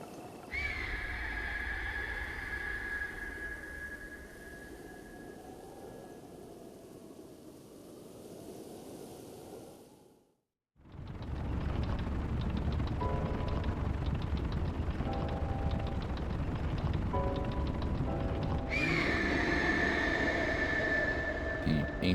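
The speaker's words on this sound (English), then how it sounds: "The ancient and amazing piece of technology still sounds like a prop plane." An ancient machine in Breath of the Wild hums with a steady, propeller-like drone that cuts out briefly, then returns with a rumbling whir and short tonal beeps, voices talking over it.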